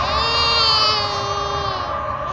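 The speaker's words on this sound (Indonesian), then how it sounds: "lalu menghilang bersama suara bayi yang menangis" A baby wails loudly and continuously in a horror-story sound effect, a sustained high crying tone that slowly falls in pitch, heard alone.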